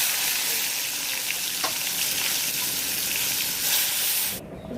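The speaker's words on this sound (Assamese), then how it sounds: "তেল গৰম হ'ল, মায়ে বেঙেনা দি আছে।" Brinjal frying in hot oil in a home kitchen, a steady loud sizzle and crackle running throughout with a brief stir, close by and without talk.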